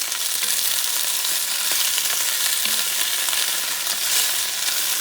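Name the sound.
shrimp sizzling in a cast iron pan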